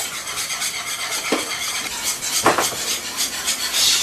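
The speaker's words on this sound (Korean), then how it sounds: "5분간 재빠르게 저어야 된다니까" Cake batter is stirred quickly with a spoon in a bowl, a close, continuous scraping and swishing with a couple of sharper metallic scrapes against the sides.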